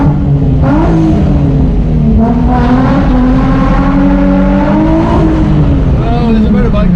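A Zagato Shooting Brake driving through the Goodwood tunnel, its engine droning loudly and steadily with rising and falling revs close by, echoing in the enclosed space.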